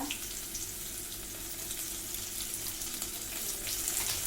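Steady sizzling of garlic paste, ginger paste, chopped onion and green chillies frying in a pan, a dense even hiss held close throughout with no pauses or talk.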